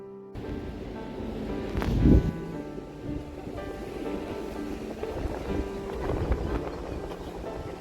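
Sea wind at the Devgad windmill garden on the coast buffets the microphone in a continuous rushing roar, with a louder gust around the second and surf-like swells beneath.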